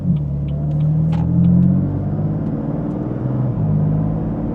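A BMW M4 rolls in and arrives, its low engine rumble steady and close with a slight swell in revs midway, alongside faint high chirps in the background.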